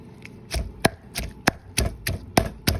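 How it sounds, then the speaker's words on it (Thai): Large roasted chilies, skins peeled off, pounded in a mortar with about eight sharp, evenly spaced thuds, close and loud with no voices. "ตอนนี้นะคะเราก็เริ่มตำพริกย่างนะคะเป็นพริกใหญ่"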